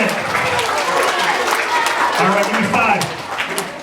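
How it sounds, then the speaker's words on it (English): An audience at an elementary school assembly claps in a dense burst of applause, with crowd chatter and voices mixed in throughout. "Give her a round of applause."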